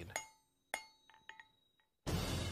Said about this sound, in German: Mit dem Hammer kann ich es in jede Form bringen